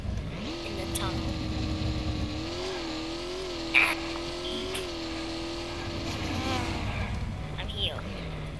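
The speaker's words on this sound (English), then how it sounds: "I'm just revving my car as loud as I can rev it" A car engine in the video game Japan Drive World revs hard inside a tunnel, a sustained droning roar that climbs and holds with pitch wobbles, with a sharp click near the middle.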